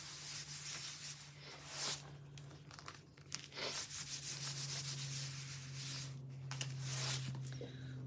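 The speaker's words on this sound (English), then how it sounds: "I'm going to fuzz it on my fuzzing towel because it's bigger than the little one." A heat transfer rubbed briskly back and forth on a large fuzzing towel, a steady, close scratchy scrubbing in uneven strokes over a constant low hum, with brief pauses between passes.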